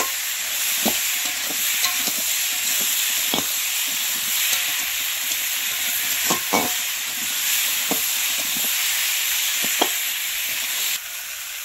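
Tomato, potatoes and carrots sauté in a kadai with a steady, close sizzling hiss, punctuated by several sharp clinks and scrapes of stirring; no voices.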